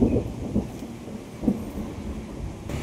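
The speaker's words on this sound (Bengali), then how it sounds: "খুব বিদ্যুৎ চমকাচ্ছে, আর আকাশও ডাকছে খুব" Low thunder rumbles in several uneven rolls across a cloudy sky before rain, moderately distant, with a faint background wash and no one talking.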